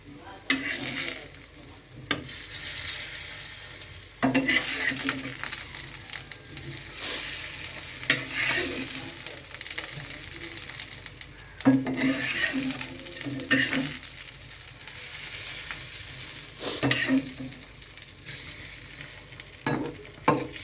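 Curry cooking in a pan, sizzling continuously while stirred, with short pauses and bursts of louder spattering as the spoon works through it.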